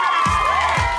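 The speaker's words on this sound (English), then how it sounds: "They scream at the sleeping porch." Girls at a sorority house scream loudly together on a sleeping porch, a sustained shrill chorus of excited shrieks with two short thumps beneath it.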